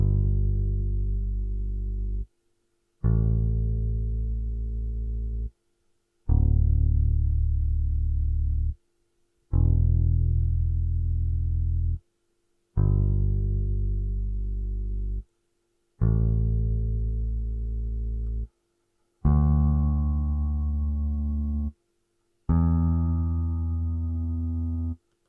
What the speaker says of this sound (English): the bass is playing the root notes and it sounds like this